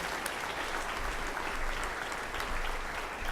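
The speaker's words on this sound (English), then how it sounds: "Please give it a round of applause for this coaching staff right here." Sustained, dense applause from an awards show audience honoring the coaching staff, a steady wash of many hands clapping for several seconds without pause.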